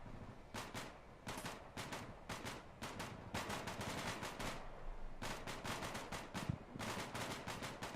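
Rapid machine-gun fire rattles in repeated close, loud bursts with short pauses between them during a squad-level training match in the military shooter Bellum TWS.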